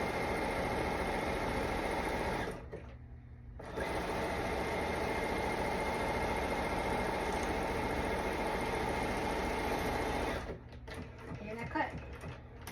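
A sewing machine runs steadily while stitching a zigzag seam on a T-shirt, a continuous close mechanical whir that pauses briefly partway through, then resumes with some softer handling noise near the end.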